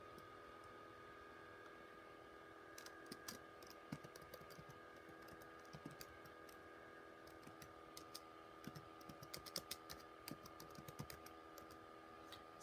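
Quiet, close clicks of typing on a computer keyboard with one hand, coming in irregular bursts of keystrokes over a faint steady hum, with no talking.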